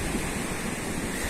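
Waves at Watunene beach in Gunungkidul at low tide wash in as a steady, close, broadband surf roar, continuous and fairly loud with no voices.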